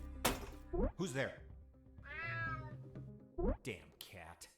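A cat in the video game UNMETAL lets out a loud, drawn-out meow after sharp thumps and knocks, with a voice speaking around it.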